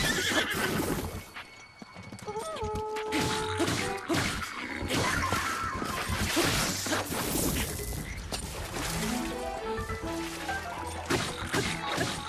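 A horse in the video game Breath of the Wild neighs and gallops amid a dense, loud game soundscape with crashing and musical tones throughout.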